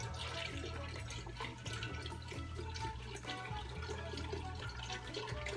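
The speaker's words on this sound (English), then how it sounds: "You start with some beef broth, and you pour that into the pot." Beef broth pours steadily into a soup pot for hamburger soup, a continuous close liquid splash and gurgle over a low steady hum, with no talking.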